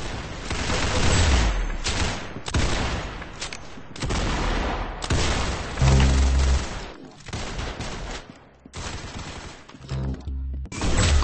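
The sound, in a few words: gunshots in the video game Arsenal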